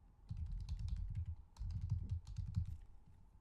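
Typing a username and password on a computer keyboard: quick runs of soft keystrokes in two bursts with a brief pause between, close and fairly quiet, no talking.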